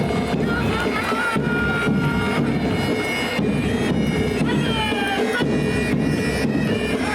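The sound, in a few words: crowd applauding a parade contingent at Independence Day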